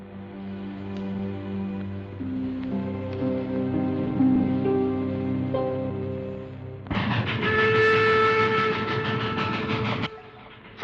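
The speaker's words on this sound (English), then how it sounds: "The train was moving right along." A moving train rumbles steadily with rolling wheel noise, then a loud sustained horn or whistle blast joins partway through and cuts off near the end; no voices.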